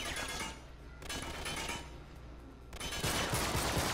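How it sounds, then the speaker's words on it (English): Enemy gunfire in the Uncharted 3 video game during a shipyard fight, dense bursts of rapid shots with short lulls between, fairly close and harsh, no talk over them. "Stop shooting at me!"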